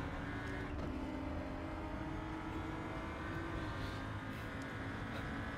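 A road car engine in the RaceRoom Racing Experience sim racing game hums steadily at a faint, even level, slightly muffled and softer than a raw race car, with no talking over it.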